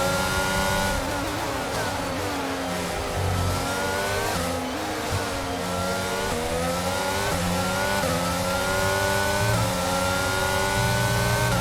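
Formula 1 cars race around Silverstone in the F1 22 video game, with high engine whine climbing and falling through gear changes and several cars close together, loud and continuous throughout with no talking.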